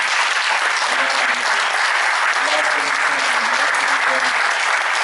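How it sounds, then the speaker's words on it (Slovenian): A concert audience in the Tartini Theatre applauds, producing dense, steady clapping that stays loud and unbroken for the whole stretch, with faint voices mixed into the crowd. "Dajmo še enkrat zaploskati tem našim"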